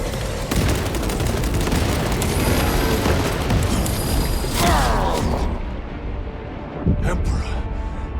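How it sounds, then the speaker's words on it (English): A frag grenade blast in Warhammer 40,000: Space Marine 2, a broad roaring explosion among dense battle noise and gunfire that fades into a quieter tail with a few later thumps; voices are heard through the fighting. "Frag grenade deployed."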